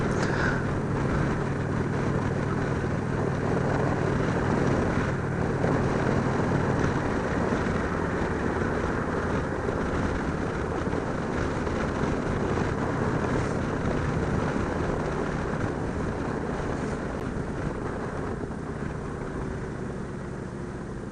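A 2017 Indian Roadmaster motorcycle cruising at about 60 mph on a group ride at low revs, giving a steady, continuous engine drone mixed with heavy wind rush over the microphone, loud and unbroken throughout with no talk.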